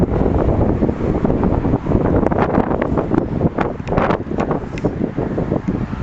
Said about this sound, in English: You probably can't hear me because of the wind.